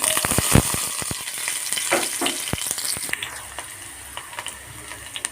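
Small onions fry in hot coconut oil as tempering for a sardine curry, a close steady sizzle broken by sharp clicks and scrapes of a spoon against the pan.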